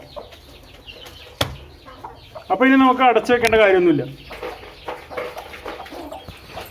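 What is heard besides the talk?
broody hen clucking while sitting on eggs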